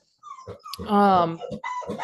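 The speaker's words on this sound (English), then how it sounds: "Is that your dog?" A dog shut in its crate whimpers in short, high, whining cries, one rising into a longer strained whine, with a person speaking around and between the sounds.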